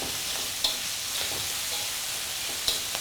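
Green chilies frying in hot oil in a pan, a steady close sizzle with faint stirring scrapes and a couple of sharp clinks, no talk.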